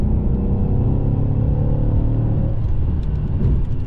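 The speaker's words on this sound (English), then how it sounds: "oh, listen to that downshift" A loud Mercedes-AMG S63 engine rumbles up close, its pitch dropping as it downshifts, then settling into a lower, rougher growl.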